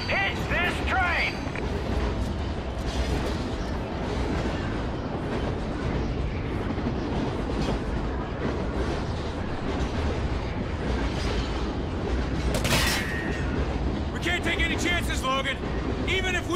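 A train rolls along the rails in the Call of Duty: Ghosts game, a constant heavy rumble with rhythmic clatter and occasional high screeches from the wheels, while voices talk over it.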